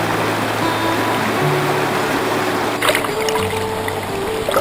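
A creek in Northeast Victoria flows steadily nearby, its continuous rushing and trickling water unbroken for the whole stretch, with no voices.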